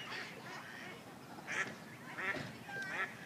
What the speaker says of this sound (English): There's ducks in the distance.